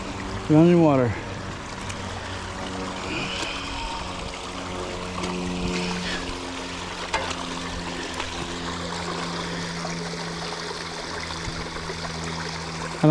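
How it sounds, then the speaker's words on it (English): A small stream runs outdoors near Long Hollow Pike and New Hope Road, a steady close trickle and gurgle that continues throughout after a brief rising and falling whine at the start. "Running water."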